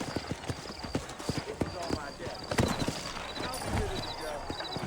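Horse hooves clip-clop steadily along a dusty town street in the Western video game Red Dead Redemption, the uneven beats close and clear while people talk over them.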